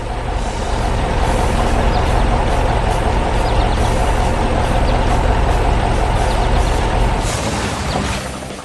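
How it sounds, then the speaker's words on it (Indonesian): A cement mixer truck arriving in an animated construction scene, a loud continuous heavy-vehicle engine rumble with a broad hiss, steady throughout, then easing slightly at the end. "Lihat truk mixer semen itu. Dia datang membawa campuran beton segar untuk menutup lapisan kerikil tadi."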